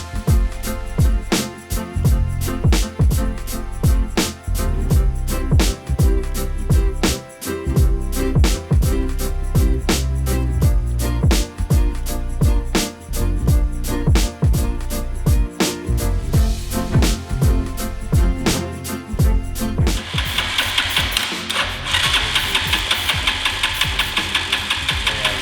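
A small single-cylinder engine on a cheap used ATV fires and runs loud and close, with a rapid, steady, slightly uneven knocking beat for about twenty seconds before it dies and only hiss remains.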